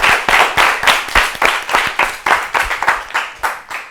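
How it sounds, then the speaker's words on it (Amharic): A studio audience at an Ethiopian children's quiz show claps loudly in an even, rhythmic burst of applause, close and sustained with no talking over it. "አጨብጭቡለት በደንብ።"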